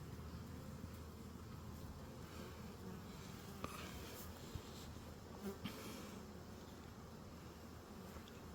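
A swarm of bees sitting in a beehive with a mesh bottom at an apiary: a steady, dense buzzing drone of many bees, continuous and fairly faint, with a few small knocks.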